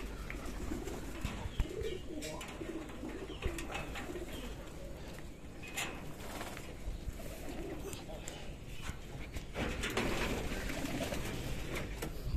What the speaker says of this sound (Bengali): সমস্ত দেশি এবং গিরিবাস কবুতর